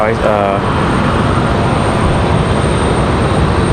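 A Sun Country airliner spooling up its jet engines at RDU airport in Raleigh-Durham during stormy weather, a loud broadband roar with a faint high whine, steady and continuous throughout.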